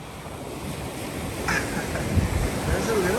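Waves on a Costa Rican beach roll in under steady wind buffeting the microphone, with the surf as a continuous rushing wash that swells slightly toward the end.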